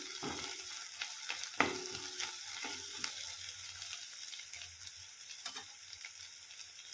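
Green peas dry-roasting in a pan for chutney, a soft continuous sizzle with intermittent stirring clicks and scrapes, fairly quiet throughout.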